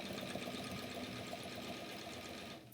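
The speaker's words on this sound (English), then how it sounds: "So, I'm sewing away." A sewing machine stitches quilt blocks with a steady, close, continuous motor whir and rapid needle rhythm that runs unbroken, then cuts off just before the end.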